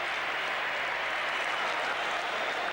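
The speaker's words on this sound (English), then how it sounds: "winning generous applause from the crowd" A football stadium crowd applauds a goal at a Euro 1992 or World Cup 1994 qualifying match, with a steady, dense wash of clapping and crowd noise that holds evenly throughout.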